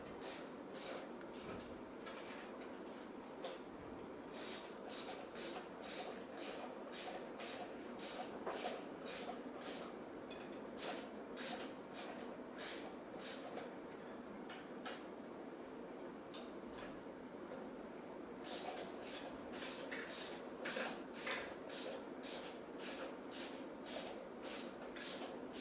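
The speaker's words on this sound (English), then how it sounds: "Dave is now going to remove the head bolts from the number 4 cylinder." A wrench ratcheting on the head bolts of the number 4 cylinder of a Buck engine, the bolts torqued to about 130 foot-pounds, giving fast runs of sharp clicks in bursts separated by short pauses, faint and steady against background hum.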